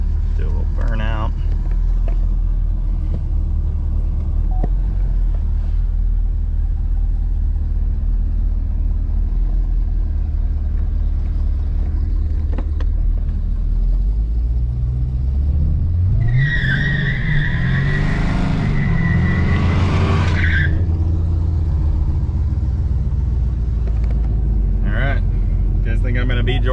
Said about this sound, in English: Do a little burnout.